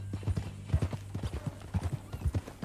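Horse hooves clip-clopping in the video game Red Dead Redemption 2, a steady, rhythmic series of sharp hoofbeats close by, heard alone without talking.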